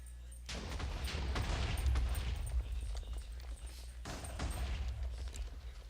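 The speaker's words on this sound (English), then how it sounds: "this is the compact dynamite. It'll do like the same thing as regular" Compact dynamite from the Too Much TNT mod goes off in a video game as a rapid, rumbling run of overlapping blasts. The heavy low booms continue for several seconds, ease briefly, then flare up again.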